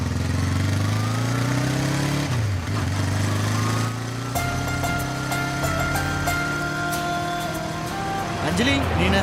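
A motorcycle carries two riders in a film scene. The engine drones steadily and its pitch slides up and down as the bike moves, with other sounds mixed underneath.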